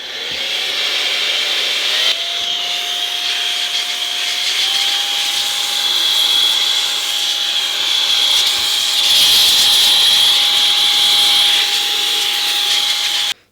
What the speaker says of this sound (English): it's just an electric air duster